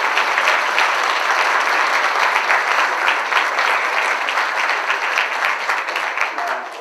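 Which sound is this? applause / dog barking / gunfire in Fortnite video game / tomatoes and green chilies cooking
applause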